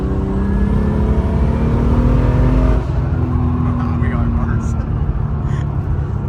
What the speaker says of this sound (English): What is that turbo spool though?